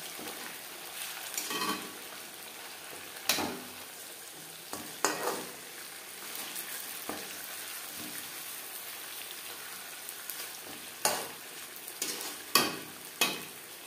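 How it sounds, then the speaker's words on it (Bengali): Chicken chaap pieces sizzle steadily as they fry in a pan, with several louder scraping bursts as the pieces are stirred and flipped over; close and fairly loud, with no voices. "একটা সাইড ভাজা হয়ে গেলে অপর সাইডটা উল্টে দেব"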